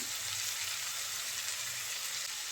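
Tomatoes go into frying bitter gourd for korola bhaji, giving a loud, steady, close sizzle of hot oil that holds evenly throughout with no talking.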